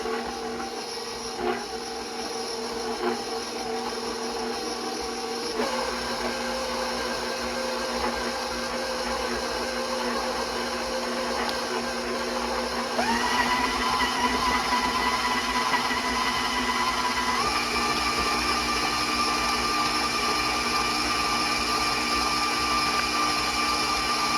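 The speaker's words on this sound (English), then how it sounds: "So I'm going to give that a good mixing first, and then we'll add the chocolate chips, okay?" An electric hand mixer whirs steadily through cream cheese, sugars, vanilla and butter, a continuous motor drone that shifts to a higher, louder speed partway through and keeps running without talk.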